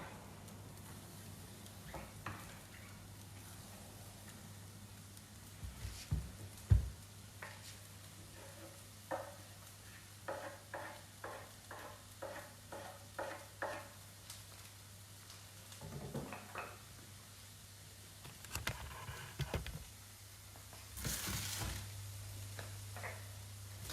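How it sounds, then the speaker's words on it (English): Chopped onion and garlic frying in a pan give a quiet, steady sizzle, with a run of light scraping and tapping as they are stirred around. "put all the onion and garlic in."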